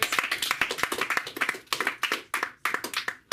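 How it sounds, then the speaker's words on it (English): A small comedy club audience gives a short burst of applause, with distinct sharp claps from a few nearby hands in a quick uneven rhythm and no cheering. "Can you get a round of applause for the first responders?"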